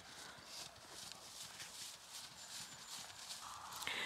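A horse's hooves clopping at a walk in a steady, faint rhythm, distant and soft over a light hiss of background noise.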